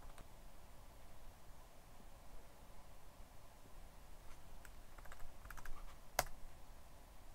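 Light, faint keystrokes on a Mac keyboard in Terminal, typed in a loose irregular patter against a quiet hiss, finished by one sharper key press near the end.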